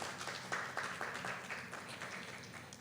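An audience applauds a speaker at a public colloquium on racial profiling in Mexico City, a brief burst of faint, distant clapping.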